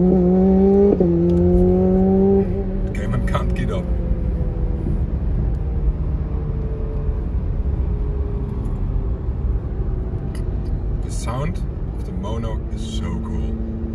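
A BAC Mono sports car drives on a public road, its engine rising in pitch through a rev and then dropping into a steady loud drone, with brief sharp crackles between and a later rise as it accelerates.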